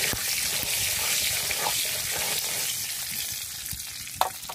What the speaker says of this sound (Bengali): দিয়ে ডিমটা ভাজব যাতে ডিম গায়ে না ছেটকায়